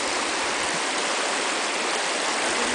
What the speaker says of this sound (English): we're stuck on a waterfall.